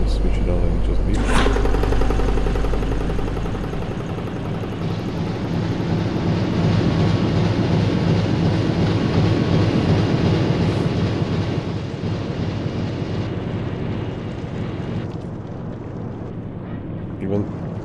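A submarine's diesel engines drone loudly and continuously aboard a Type VIIB U-boat in UBOAT, a low rumbling hum that eases somewhat partway through, with someone talking over it.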